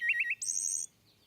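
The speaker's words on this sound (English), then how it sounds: "A wood thrush can sing 2 pitches at once." A wood thrush sings a short, clear phrase: three quick rising notes followed by a sustained, high, fluted trill that seems to hold two pitches at once, then fades to quiet.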